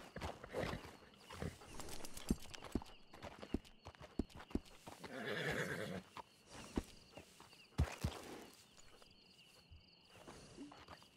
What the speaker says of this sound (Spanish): ¿dónde va ese caballo? ¿Viene? Ah, que viene.